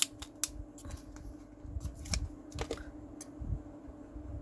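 A plastic bag wrapping a mouse is opened by hand, giving a string of close, crisp crinkles and sharp clicks scattered irregularly over a few seconds.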